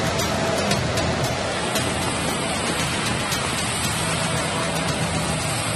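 Torrential monsoon rain pours nonstop, a thick, loud, unbroken roar of water hitting the ground and surfaces, with faint patters of individual drops and no speech.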